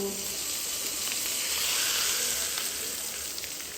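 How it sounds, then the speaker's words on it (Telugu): Hot tempering of oil and spices poured over ridge gourd and peanut chutney in a bowl, giving a loud, steady close-up sizzle that holds for several seconds with no talk. "ఇప్పుడు ఈ గిన్నెలో వేసేసుకోవడమేనండి తాలింపు"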